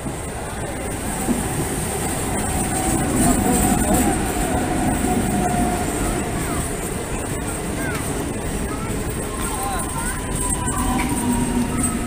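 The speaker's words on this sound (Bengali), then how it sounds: "পরবর্তী যে লোকাল ট্রেন সেটি 2 নম্বর প্ল্যাটফর্মে এসে দাঁড়াবে" A local train pulls into platform 2 of a railway station with a continuous loud rumble and rattle, faint wheel squeals and a hiss, while voices carry beneath the din.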